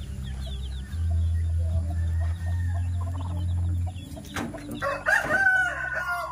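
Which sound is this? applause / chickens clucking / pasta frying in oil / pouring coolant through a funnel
chickens clucking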